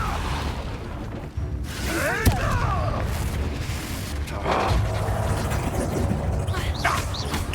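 Repulso spell blast in Hogwarts Legacy: a sudden booming burst with whooshing sweeps amid game sounds and a speaking voice, followed by further swishes and rumbles.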